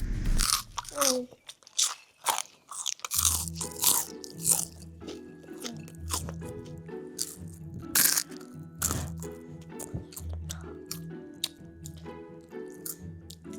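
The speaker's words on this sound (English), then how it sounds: "Let me see how crunchy these fries is." Close crunching bites into crispy fries followed by chewing, with a person talking over the eating noises.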